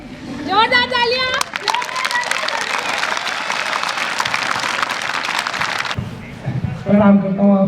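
An audience at a college children's day program breaks into loud, dense applause that sustains for several seconds after a brief spoken line, then gives way to a voice speaking over a microphone.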